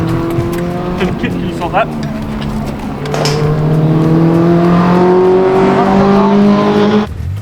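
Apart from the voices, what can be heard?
40 year old Toyota race car during endurance racing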